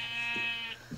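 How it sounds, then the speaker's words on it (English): Sheep bleat in a survival video game, a couple of harmonic bleats standing out over a steady synthetic tone, fairly close and clear with no talk. "Lots of sheep, for sure."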